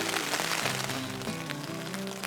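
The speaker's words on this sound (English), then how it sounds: "Last few hours it's been raining on and off" Heavy monsoon rain drums on a tent in a dense, steady hiss of countless drops, loud and close, with faint tonal background sounds beneath.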